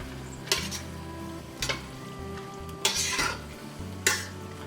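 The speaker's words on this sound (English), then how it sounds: "now I'm gonna add my frozen veggies to it. And then I'm gonna just kind of stir that up real well" Frozen vegetables are stirred into a thickening sauce in a pan over low heat, with four distinct scraping, clattering strokes of the utensil against the pan over a soft, steady simmer, with no voices.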